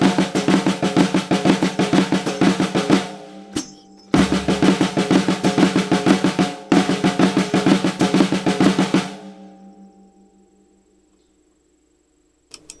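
A drum kit plays a Swiss triplet figure with a right-left kick pattern and dotted eighth-note feel, loud and busy in repeated bursts with brief breaks, ending in a decaying cymbal wash.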